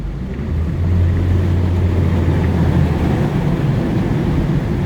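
An amphibious vehicle's engine droning loudly as it drives through floodwater in Abu Dhabi, a steady rumbling roar with water noise and no voices.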